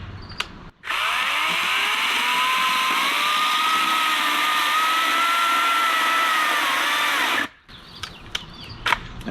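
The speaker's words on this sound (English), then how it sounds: "Now, you can stall any electric chainsaw." A cordless electric chainsaw whines steadily through a long cut into thick wood for several seconds, its pitch sagging under load, then stops abruptly.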